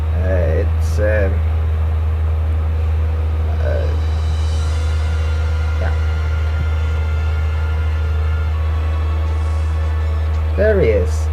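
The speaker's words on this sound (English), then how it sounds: "please excuse the whirring of the disc. I know it's loud" A game disc spins inside a console with a steady, loud low whirring hum, constant throughout, with faint game sounds and occasional short voice-like tones above it.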